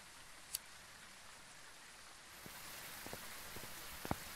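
Steady rain falls in the VR horror game Phasmophobia, a faint even hiss of drops with a few sharper taps and ticks scattered near the end, no voices.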